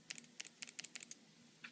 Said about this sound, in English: I'm getting the clicking from the solenoid